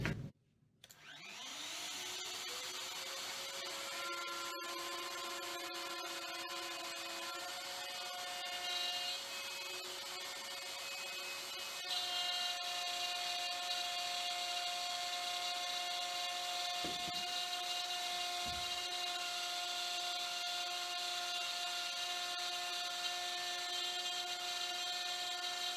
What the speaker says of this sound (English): so we've now been round with the router, we've done 3 passes to get us through the thickness of the material